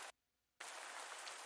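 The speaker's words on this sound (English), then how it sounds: "Raining." Steady rain pours down in a dense, even hiss that cuts out briefly near the start and then resumes, close and loud, with no voices over it.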